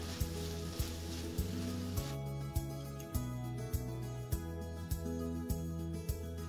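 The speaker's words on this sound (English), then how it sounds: "I turned off my stove and I'm just gonna let it simmer a little bit longer" BBQ-marinated turkey and vegetables simmering in a pan with the stove off, a soft continuous sizzle and bubbling with a low rhythmic hum and regular faint clicks.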